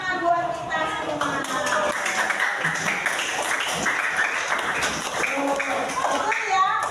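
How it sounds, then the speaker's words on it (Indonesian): A group of children and their teacher clap their hands in a classroom lesson, a busy continuous clatter mixed with voices and chatter that runs throughout. "Ya, tepuk tangan buat kita semua."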